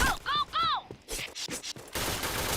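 Gunfire in the shooting video game Point Blank, with rapid bursts of shots close and loud, broken up by short pauses and game voice announcements, ending in a dense stretch of continuous firing.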